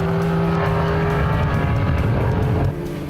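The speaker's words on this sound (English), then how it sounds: "He comes up now to lap the MGB with Steven Koenig at the wheel" Race cars on a circuit as one laps an MGB, a loud continuous engine roar with droning tones that shift slightly, close and dense before easing a little near the end, with no voices.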